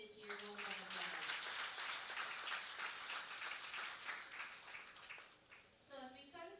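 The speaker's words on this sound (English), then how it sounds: "Please give Panditji a round of applause." At an anniversary celebration and religious gathering, the audience applauds Panditji with a steady wash of clapping, fairly faint and distant, and voices talk at the start and end.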